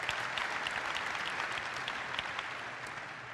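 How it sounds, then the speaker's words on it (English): A crowd applauds with steady, dense clapping that sounds somewhat distant and fairly quiet, tapering slightly toward the end. "So I think that deserves an applause, man."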